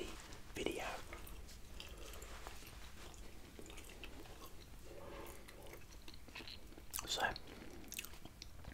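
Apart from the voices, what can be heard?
chewing gum close to the microphone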